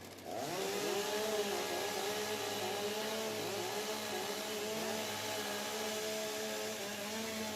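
Several STIHL chainsaws warming up at a Timbersports competition: engines roar into a loud, sustained two-stroke whine with wavering pitch as throttles are blipped, continuous and close.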